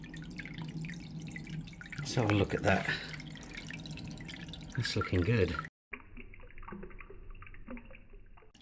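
A HYGGER aquarium filter runs, moving water with a constant splashing, trickling flow heard close; someone talks briefly over it.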